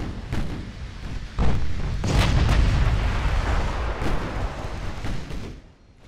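Naval guns fire 16-inch shells in the naval warfare game Ultimate Admiral Dreadnoughts: several deep, rolling booms overlap in quick succession, loud and heavy throughout.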